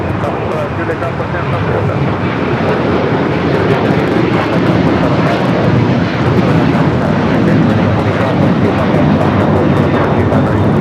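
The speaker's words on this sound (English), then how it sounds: "This is Alaska Airlines Flight 6 taking off to Washington Reagan National on the 737-800." Alaska Airlines Boeing 737-800 jet taking off from LAX bound for Washington Reagan National, a sustained, fairly loud engine roar that holds steady throughout, with a voice talking over it.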